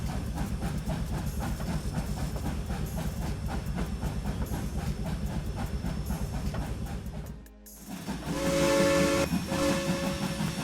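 In the train simulator Trainz 2019, a small CN steam locomotive chuffs rhythmically and steadily, then after a short break lets out a loud whistle blast over a burst of hissing steam.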